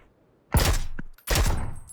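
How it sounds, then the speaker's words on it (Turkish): Gunfire in the battle-royale game PUBG: two loud, dense bursts of rapid shots, the first lasting about half a second, then a short gap with a faint pop before a second sustained burst. "Sıkma sıkma niye sıkıyorsun?"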